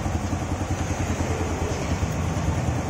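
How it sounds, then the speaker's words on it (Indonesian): Motorcycle engine running at a steady idle just after starting, following a spark plug thread repair done without dismantling the engine; a continuous low, even rumble, fairly close and alone. "Coba kita tes ya, nyalain motornya."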